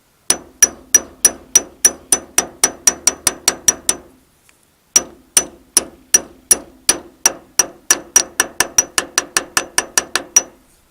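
A 7/8 socket is hammered down onto a bushing on a Farmall International tractor's power steering shaft: a steady series of sharp metallic hammer blows, about two per second, with a brief pause midway before the strikes resume.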